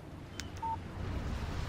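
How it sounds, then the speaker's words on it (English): A mobile phone's text message alert in the Alan Wake video game: a faint click followed by a single short electronic beep, alone in quiet. "Text message from Barry"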